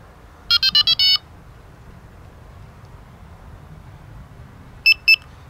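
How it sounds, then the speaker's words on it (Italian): Delkim TXI-D carp bite alarm giving electronic confirmation beeps: a quick burst of four short, bright beeps, a pause, then two more near the end, heard alone over a low background hum. "Questo beep ci dice che siamo entrati nel menu."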